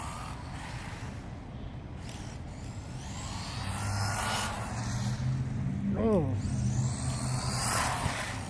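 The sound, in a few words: RLaarlo 1/14 scale off-road RC buggy driving fast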